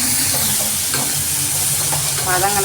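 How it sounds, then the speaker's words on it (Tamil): Onions sautéing in a pan for a Tamil-style kara boondi gravy, a steady close sizzle and frying hiss with scraping stir strokes running throughout, no talk. "வெங்காயம் வெங்காயம் போட்டு நல்லா வதங்கணும்"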